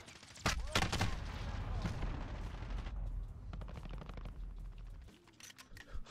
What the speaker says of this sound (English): Crazy shooting.